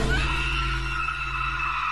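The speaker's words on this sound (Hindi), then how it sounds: "जो लड़की डायरेक्टर के साथ काम करती थी जब वो आकर देखती है तो डर जाती है और चीखती है।" A sustained high scream from a frightened young woman in the horror film 8 Days To Hell, held steady and loud for about two seconds over a low rumbling backdrop.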